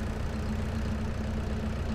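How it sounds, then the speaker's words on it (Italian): A Deutz-Fahr Agrolux tractor engine idles in Farming Simulator 22, a steady low mechanical drone with a firm tonal hum, constant and close, unbroken for two seconds with no talking. "E adesso è arrivato il momento di sentire il motore fare un giretto."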